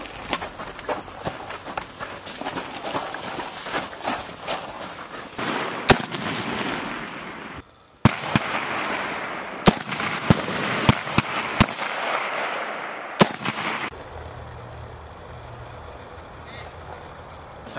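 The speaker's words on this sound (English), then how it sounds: "Begin firing when ready. You have 6 rounds." Soldiers fire weapons on a shooting range during a squad competition event, with sharp gunshot cracks in irregular bursts, some loud and close, amid outdoor noise and people talking.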